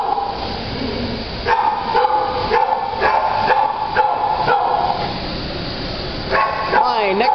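A dog barks in sharp, repeated bursts, fairly close, over steady background noise and a person talking.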